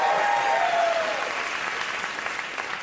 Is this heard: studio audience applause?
yes